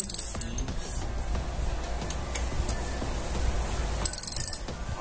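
Size 10 socket ratchet working on a Honda Bros 160 motorcycle during a drive chain and sprocket kit change, giving dense metallic clicking and mechanical rattle throughout, with a brief louder burst of clicks near the end.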